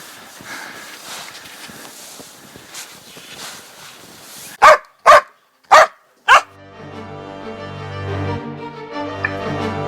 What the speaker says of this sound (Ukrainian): Західно-Сибірська лайка.